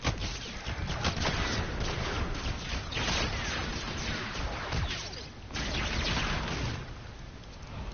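Rapid bursts of secondary weapon gunfire in Call of Duty: Infinite Warfare, loud dense sharp cracks in quick strings, with brief gaps between bursts.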